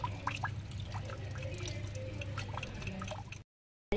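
Pomfret fish is rinsed in water, giving close, continuous splashing and dripping that stops abruptly into silence.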